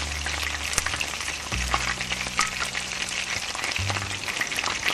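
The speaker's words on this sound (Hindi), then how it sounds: "आलू के और बैंगन के कतले इसके अंदर फ्राई हो रहे हैं" Potato and eggplant slices coated in gram flour batter deep-fry in hot oil at medium heat for pakoras, giving a steady dense crackling sizzle with a few sharper pops, constant and close throughout.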